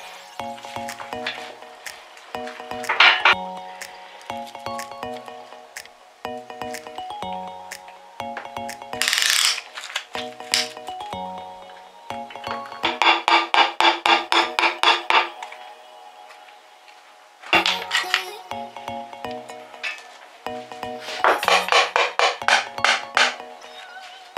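Metal parts clink and tap while pistons go into a rebuilt engine, with the clinks coming in irregular bursts. Several quick runs of rattling taps and a few brighter scraping or dropping sounds are heard, close and fairly loud.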